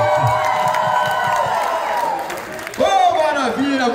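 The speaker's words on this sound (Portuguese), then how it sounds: "Quem gostou pode aplaudir." Wedding audience at a funk show cheering and applauding, a loud steady crowd roar with whoops and shouts, swelling again near the end as someone talks over it.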